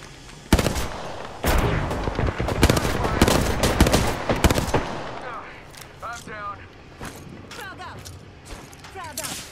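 Gunfire in the Apex Legends battle royale shooter: loud, rapid automatic bursts and sharp single shots crackle densely for several seconds, then thin into scattered reports with metallic mechanical clatter, while players talk over the action.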